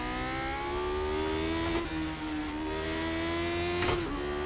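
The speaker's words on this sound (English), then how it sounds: "you're probably hearing your car loud" A race car engine in a racing game holds a steady mid-pitched drone, rising in two brief revs, quiet and continuous with no talk over it.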